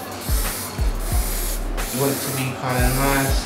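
A spray paint can hisses out in a series of short, sharp bursts, close and distinct, while a person talks over it.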